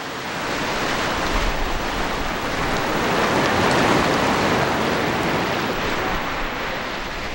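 Ocean waves surge against a rocky coast at Gangneung, a loud continuous roar of surf that swells and recedes over several seconds, with no voices.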